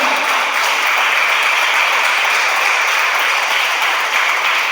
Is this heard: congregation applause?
yes